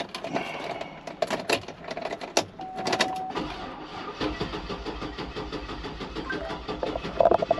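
A used state trooper police car's engine cranks in several uneven, stuttering bursts before it catches, then settles into a low, steady idle rumble, heard up close.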